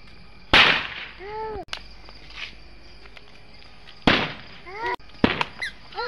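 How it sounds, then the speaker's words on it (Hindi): A few sharp firecracker bangs go off one after another during Diwali, with voices and whistling tones heard around them. "केशव और कृष्णा पटाखा फोड़ रहे हैं।"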